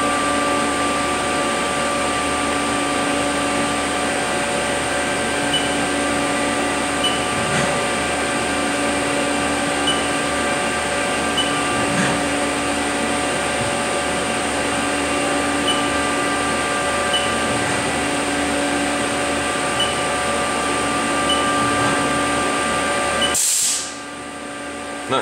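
A CNC milling machine runs while machining a 5C adapter plate for an HRC160, giving a loud, steady motor whine with a constant hum that cuts off abruptly just before the end.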